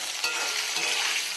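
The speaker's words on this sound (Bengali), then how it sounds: "আলুগুলো হালকা করে ভেজে নেব।" Potatoes seasoned with turmeric and salt fry in oil, giving a dense, even sizzle at close range with a small knock of the pan near the start.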